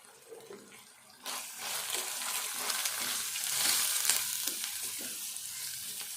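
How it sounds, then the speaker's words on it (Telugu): Onion, coriander and curry leaves frying in oil for a bitter gourd stew, a quiet start that breaks into a steady, close sizzle with some stirring, no voices. "ఉల్లిపాయ, ఈ కొత్తిమీర, కరివేపాకు అంతా ఇట్లా వేగినాక"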